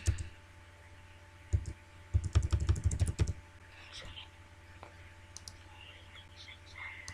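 Someone types on a computer keyboard in two short bursts of quick clicks: a brief tap early on, then a denser flurry for about a second, followed by a quiet room with faint stray sounds.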